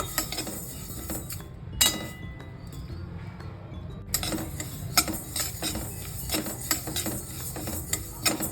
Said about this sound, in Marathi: चांगले हे उडतात बघा असे चटचट चटचट आवाज येतो